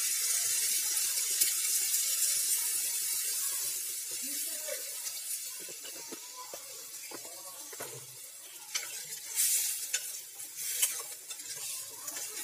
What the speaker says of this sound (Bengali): এবার আমি এতে পরিমাণ মতো জল ঢেলে দিচ্ছি মাছটা সিদ্ধ হওয়ার জন্য।